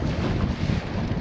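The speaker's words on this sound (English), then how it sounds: "It's just a pinch on the windy side now." Wind gusts across a lake in early spring while crappie fishing from a boat in Indiana, a steady, loud broadband rush buffeting the microphone for the whole moment, with no talking.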